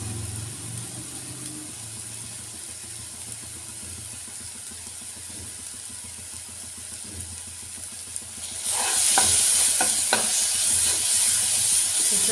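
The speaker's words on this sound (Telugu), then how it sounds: "కాసేపు ఒక 5 మినిట్స్ దీన్ని ఇట్లా మూత పెట్టేసి వేగనిద్దామండి" Masala sizzles and fries in a lid-covered pan on the stove, a low, steady crackle that suddenly grows louder and brighter near the end.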